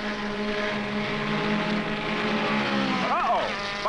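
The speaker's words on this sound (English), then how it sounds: "Cars are working their way through the field." Super-Vee race cars with water-cooled engines circulating on a track, a steady droning engine note, then a sharp pitch sweep as a car passes close near the end.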